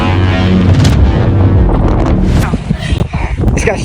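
Strong wind during a snowstorm at an outdoor splat gun battle: loud, gusty roaring buffets the microphone for the first two and a half seconds, then eases into choppier bursts as people talk.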